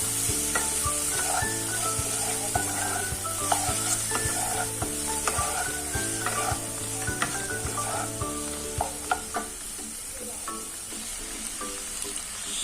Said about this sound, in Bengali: এবার এটাকে ভালো করে মেখে নেব।